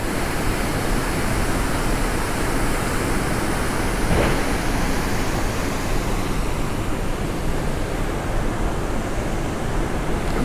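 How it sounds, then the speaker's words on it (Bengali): The Rajpuri waterfall in Jashpur, Chhattisgarh, swollen by monsoon rain, makes a loud, constant broadband roar of heavy falling water with no break, heard near at hand and without voices. "কি বিশাল ঝর্ণা"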